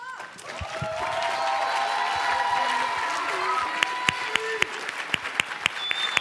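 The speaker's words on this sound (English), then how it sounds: "Give him a big round of applause" Steady applause from a school audience at Harlan Community Academy High School, sustained clapping with crowd murmur, thinning toward the end into scattered individual claps.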